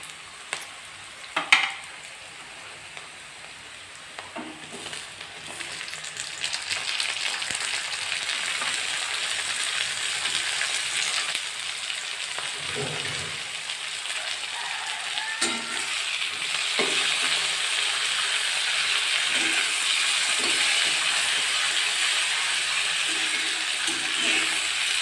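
Onion and tomato fry in a pan for pithla, a continuous hiss of sizzling oil that swells after a few early clatters and scrapes.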